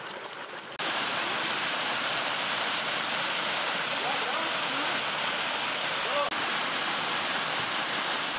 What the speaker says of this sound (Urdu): آبشاروں سے گرنے والا پانی 1 کلومیٹر جنوب سے چشمے کی صورت یہاں پہنچتا ہے